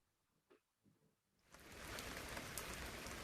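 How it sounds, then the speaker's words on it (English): Steady rain pours down loudly after a couple of soft taps, a dense hiss of drops hitting a surface that continues without pause. "Oh dear, it's raining again. Look at all that rain."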